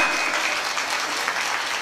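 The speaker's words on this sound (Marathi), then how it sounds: "जोरात जोरात जोरात जोरात" A crowd at a devotional kirtan claps loudly and continuously, a dense wall of hand claps held at a constant level throughout, with faint voices beneath.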